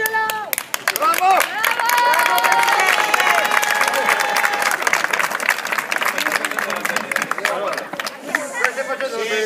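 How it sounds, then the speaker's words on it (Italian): Clapping and cheering from a crowd at a community reunion gathering, lively and loud, mixed with chatter and voices throughout, some whistles or shouts rising over the applause. "Un applauso, Angelo! Bravo!"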